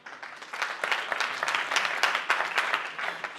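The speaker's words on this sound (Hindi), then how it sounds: "सभी तालियां एक बार" Audience at a public talk clapping in a short burst, a fairly close ripple of many hands that rises quickly and holds steady without voices.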